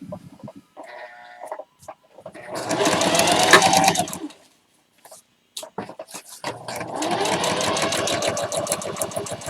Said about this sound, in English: So I'll just stitch it all down.